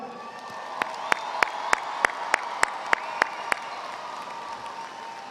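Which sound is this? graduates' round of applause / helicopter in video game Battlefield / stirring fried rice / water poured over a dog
graduates' round of applause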